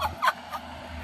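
A turkey next to a parked vehicle lets out three quick, loud gobbling bursts close up, each a rapid throaty rattle separated by short pauses.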